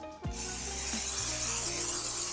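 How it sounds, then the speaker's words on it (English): Non-stick cooking spray hisses steadily onto a baking pan, a loud, continuous close-up spray that starts after a brief moment and runs without pause to the end. "I'm gonna spray this non-stick spray onto my pan"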